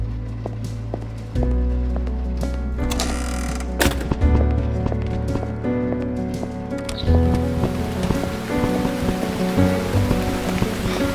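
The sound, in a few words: rain falling in video game Burnhouse Lane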